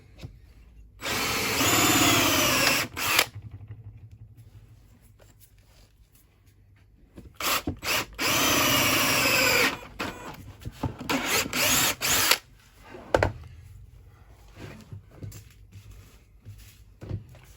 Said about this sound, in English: we just keep drilling down